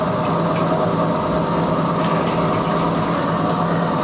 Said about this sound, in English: So turn our pump back on.